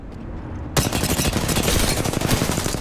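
Rapid automatic gunfire in the battle royale shooter Apex Legends bursts in after a quiet moment, a dense, loud, continuous rattle of shots with no talking.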